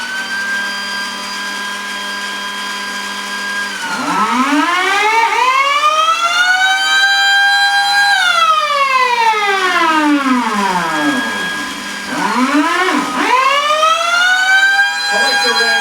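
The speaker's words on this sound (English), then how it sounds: "here's some footage of the mini Thunderbolt doing attack on chopper level 4" A Thunderbolt mini siren sounds an attack on chopper level 4 signal, rising and falling in long loud wails that sweep up and down, with a steady mechanical drone beneath and a second quicker wind-up near the end.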